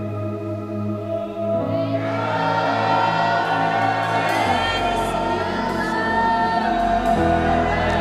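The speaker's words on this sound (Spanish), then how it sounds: "quiero oírte gritar" A church congregation at a Spanish-language revival service erupts in loud, sustained shouting and cheering, a dense crowd roar rising over steady background music and continuing to the end.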